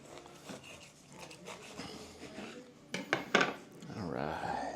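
A knife slices through a layered holiday sandwich made with Thanksgiving leftovers, giving a few sharp scraping cuts and clinks midway after softer kitchen handling and murmured talk.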